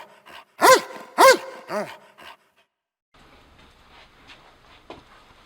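A dog barks nearby: a few loud, sharp barks in quick succession, then smaller yips, then near-silence with faint room noise.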